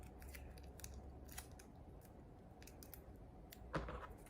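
Scissors snipping the end off a strip of regular tape during a papercraft project, faint and close with small crisp clicks and one sharper cut near the end over a low background hum.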